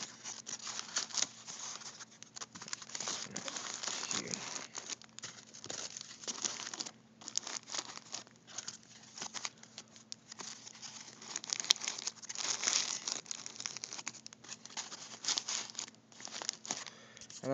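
Crumpled paper balls rustled, crinkled and wedged into place while building model railroad scenery, a continuous close crackling with irregular bursts and a faint low hum beneath.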